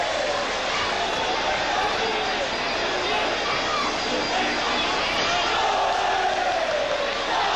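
Crowd at a Muay Thai bout between Samkor Kiatmontep and Sangtiennoi Sor Rungroj, a dense continuous roar of cheering and shouting, loud and steady, with a commentator talking over it.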